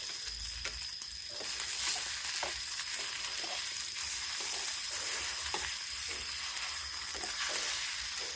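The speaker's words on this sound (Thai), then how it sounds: "ทอดไข่ใส่หมากคิด" Eggs with chili fry in a little oil, a steady close sizzle with a thin high hiss, punctuated by regular soft scraping strokes from a utensil at roughly one-second intervals.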